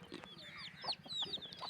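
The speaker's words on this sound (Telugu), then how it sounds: "పెట్టలన్నీ గుడ్లు పెడుతున్నాయి." Laying hens clucking in a poultry yard alongside young roosters, with several short clucks and a few higher calls scattered over a quiet farmyard background.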